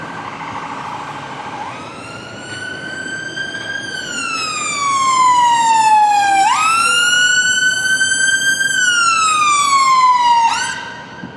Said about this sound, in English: The emergency vehicle is where it needs to be.